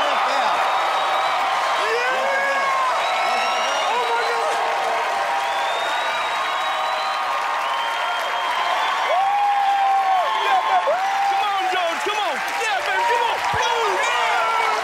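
A studio audience at the US game show Deal or No Deal cheers, whoops and applauds loudly and continuously, a dense crowd roar with scattered shouts that never lets up.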